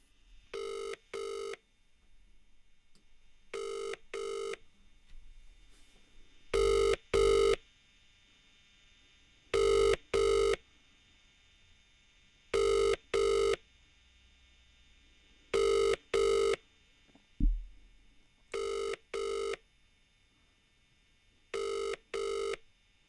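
An outgoing phone call rings out in a double-pulse pattern, eight clear pairs repeating roughly every three seconds over a quiet background, with one brief knock between them.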